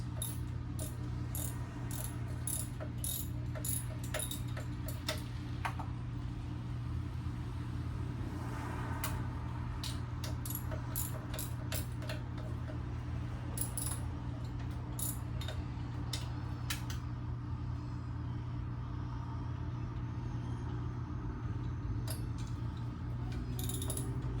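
A ratchet wrench loosens a bolt, giving rapid bursts of clicking that come and go over a steady low mechanical hum, fairly close and moderately loud.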